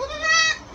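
A goat on a farm lets out a single loud, close, quavering bleat lasting under a second.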